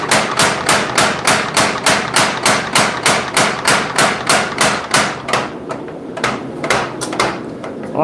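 An old power hammer forging a steel spear blade, delivering a steady run of loud, rapid, evenly spaced blows for about five seconds, then slowing to a few separated strikes with short pauses.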